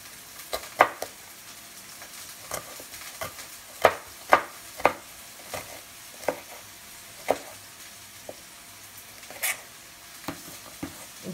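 Spring onions sautéing in a pan while being stirred for vegetable noodles, a steady soft sizzle broken by scattered sharp clicks and scrapes of a utensil against the pan, with no talking.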